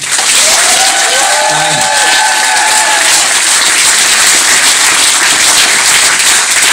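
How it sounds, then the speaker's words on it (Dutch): Loud, sustained applause and clapping from a carnival revue audience for the First Lady at a prince's farewell show, filling the whole stretch evenly, with a few brief voiced or whistled tones near the start. "Dus ik wil een heel groot applaus voor de First Lady"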